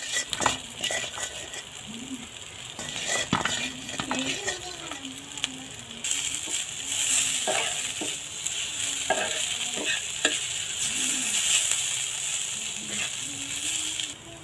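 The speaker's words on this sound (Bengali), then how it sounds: "এখন সিদ্ধ করা নুডলস ছেড়ে দিলাম।" Boiled noodles dropped into a pan of vegetables, stirred with steady scraping and clattering over a continuous sizzle; a faint voice murmurs briefly in the background.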